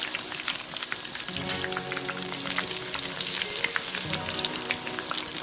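Grated potato fries in hot oil for chips, giving a dense, bubbling sizzle with rapid crackles throughout. The sound is steady and close, with no talking.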